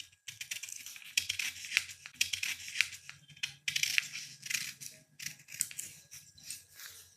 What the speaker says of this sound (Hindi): मैं इसकी कटिंग सिखा देती हूँ, कटिंग कर देती हूँ आपको।